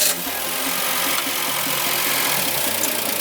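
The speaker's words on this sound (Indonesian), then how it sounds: "Coba kita nyalain mesin ini." Engine of a 2021 Toyota Raize car starting, then settling into a steady, close idle with a faint rhythmic knock and no talking.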